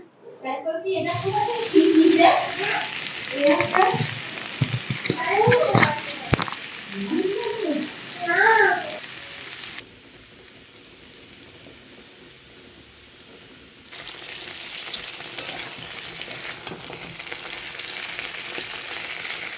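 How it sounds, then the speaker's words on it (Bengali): Pointed gourd (potol) slices frying with salt in hot oil, a steady sizzle with bursts of stirring and scraping, joined by harmonic voice-like calls in the first half before settling into a quieter, even fry. "পটল সবে একটু লবণ দিয়েছি, দিয়ে এখন ভাজা হচ্ছে"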